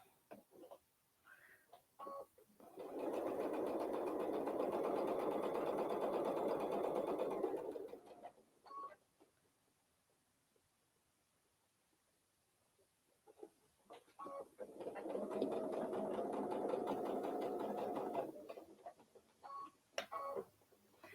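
A sewing machine stitching a quilted case runs in two sustained loud bursts of steady whirring, separated by a quiet pause with faint handling clicks.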